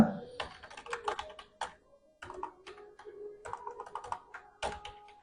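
Rapid bursts of key clatter from a computer keyboard, close and clear, in uneven clusters with brief pauses between runs of typing.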